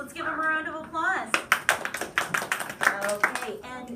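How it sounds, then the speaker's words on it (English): A classroom round of applause: after a speaking voice, scattered children's hands clap in an uneven burst of distinct claps at close range, with talking resuming at the end. "Let's give them a round of applause."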